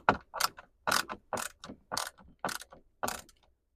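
A ratchet clicks in short, evenly spaced bursts as it tightens a screw on a cabinet door support, about eight close, crisp ratcheting strokes with brief pauses between them.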